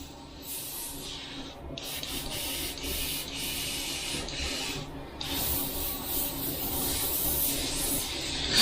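Steady airbrush hiss of pink paint spraying continuously, close and even, with slight shifts in intensity and no talking.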